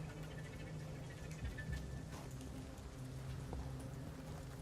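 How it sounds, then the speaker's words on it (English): Steady rain ambience from the video game Vampyr, a dense, even patter of raindrops on surfaces that continues without pause throughout. "we have the 2D or fully spread overall rain sound playing in the background"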